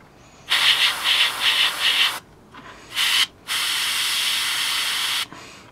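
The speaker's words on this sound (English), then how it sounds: "I'm just using air at the moment just to dry that paint off." An Iwata Revolution airbrush blowing plain air to dry paint, close hissing bursts: a pulsing spray, a short puff, then a long steady blast, no talking.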